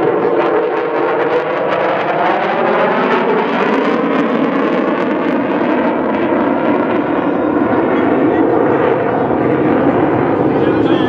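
An aircraft at the Miami Beach air show roars overhead in a continuous loud, rumbling drone whose pitch slowly shifts as it passes, with people talking faintly beneath.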